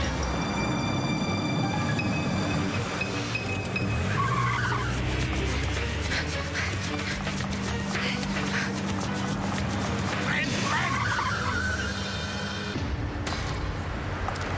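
A car speeding off with tires skidding and squealing, a long loud screech over a revving engine that carries on for many seconds, with dramatic music and scene noise mixed in.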